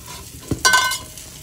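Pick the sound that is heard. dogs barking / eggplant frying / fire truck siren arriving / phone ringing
eggplant frying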